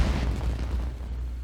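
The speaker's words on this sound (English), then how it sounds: "That explosion? Maybe it was fireworks." A single fireworks blast booms in Genshin Impact, a deep, loud burst that rumbles and fades over about a second.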